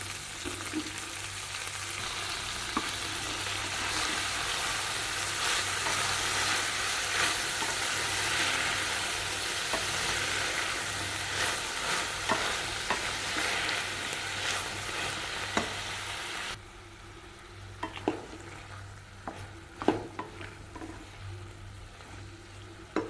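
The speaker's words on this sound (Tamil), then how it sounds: "இப்போ பைத்தங்காயை சேர்த்துக்கிறேங்க." Snake gourd pieces go into a pan of frying tomatoes for a South Indian kootu and are stirred, giving a steady close sizzle with scraping spoon clicks that drops to a quieter simmer partway through.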